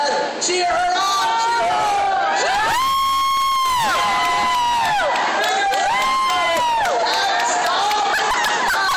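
Children at a science center cheer in a loud, sustained crowd of high shouts and whoops, with bursts swelling and fading over excited chatter.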